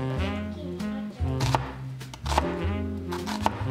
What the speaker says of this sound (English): Chop carrot, onion, and potato into small pieces.